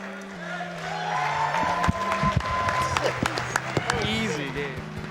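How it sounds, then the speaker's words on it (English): An audience at a Super Mario Bros. speedrun race event applauds, clapping spreading through the crowd in a steady patter, while a person speaks over a microphone on top of it. "can we get one more round of applause for Kosmic, please?"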